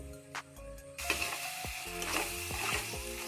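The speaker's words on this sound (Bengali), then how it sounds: "ভালোভাবে একটু নেড়ে চেড়ে নেব।" Sour yogurt being stirred into frying Kashmiri aloo dum in a pan over a medium flame, a soft sizzle rising after a brief quiet start, with scraping stir strokes and a few light utensil knocks.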